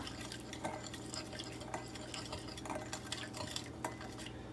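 Grilled vegetables being mixed in a bowl for a salad, soft clinks and scrapes of a utensil against the dish repeating in a loose stirring rhythm, quiet and close with no talk.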